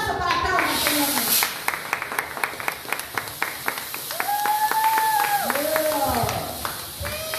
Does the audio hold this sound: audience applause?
yes